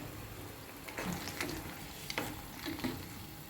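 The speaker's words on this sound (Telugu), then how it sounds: "ఇప్పుడు ఈ వడియాలు ఉన్నాయి కదా, వీటిని కూడా ఇందులో వేసేసుకుందాము" Sun-dried lentil dumplings drop into a simmering tamarind stew, a soft steady bubbling hiss with a few light splashes and utensil taps, close but quiet, no talking.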